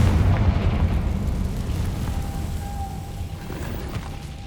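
Confringo fire spell cast in the video game Hogwarts Legacy, a loud rumbling blast that booms at the start and rolls away slowly, with a faint ringing tone appearing in the tail.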